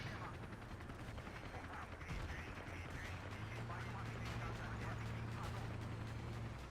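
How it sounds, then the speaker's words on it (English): Battlefield 2 gunfire from building windows during a large 31-versus-31 match, a dense, continuous crackle of distant rifle and machine-gun shots over a steady low rumble of battle, with a voice talking throughout. "It's like a Wild West type of gunfight here. They're shooting from the windows of the building."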